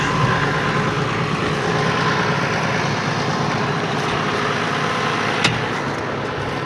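Tractor pulling a Sanika harrow across a dry field, a loud continuous engine drone with rumbling and rattling from the implement that holds steady and close throughout, with one faint click near the end.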